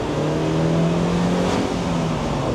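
A Mazda MX-5 engine drones steadily and loudly after a downshift to second gear, its pitch holding fairly constant with a slight rise, heard close up from inside the car.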